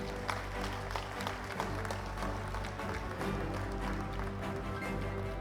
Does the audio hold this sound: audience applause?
yes